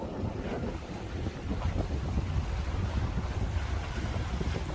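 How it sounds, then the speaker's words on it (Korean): Wind gusts across a seaside harbor at a fishing port, a low rumbling buffet with microphone noise and faint lapping water beneath, continuous and fairly strong, no voices. "자 이제 바람이 좀 불고 있습니다"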